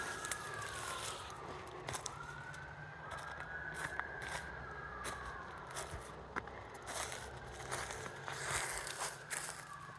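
Ambulance sirens wail at a distance near a forest, rising and falling tones faint beneath close rustling, scraping and crunching sounds.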